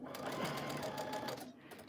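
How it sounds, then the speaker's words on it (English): A sewing machine whirs steadily while stitching a mini quilt with a small stitch for micro quilting, a close, even mechanical hum with a rapid needle rhythm. "I'm just gonna put my stitch a little smaller because this is like micro quilting here"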